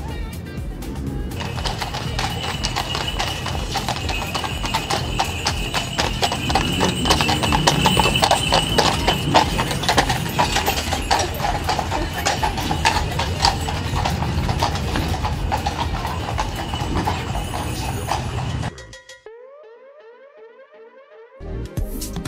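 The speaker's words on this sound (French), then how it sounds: "une promenade en calèche dans le centre de Vire" A horse-drawn carriage rolls through the town centre of Vire, its hooves clip-clopping in a steady, close rhythm over the clatter of the wheels for most of the stretch, then cutting off abruptly near the end.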